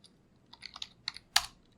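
A few quick, soft keystrokes sound on a computer keyboard while a terminal command is entered, an uneven burst of clicks ending in one sharper tap.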